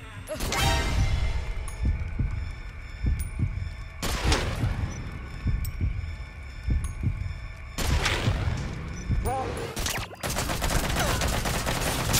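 Gunfire in Metal Gear Solid V: The Phantom Pain during a mission, with repeated loud bursts and heavy thumping impacts recurring across the stretch, dense and near, over a constant game soundscape.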